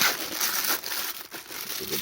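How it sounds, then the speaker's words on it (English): A Spider-Man action figure is being unwrapped from paper, giving a brief, continuous crinkle and rustle close by over a faint voice. "we'll unwrap Spidey here first"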